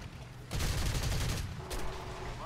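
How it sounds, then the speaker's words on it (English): Aircraft cannons fire from a fast plane in a jet combat flight video game: two dense, loud bursts of rapid shots, the first about a second long, the second shorter, over a steady engine drone. "The cannons on this thing normally do enough damage to take him out in one pass."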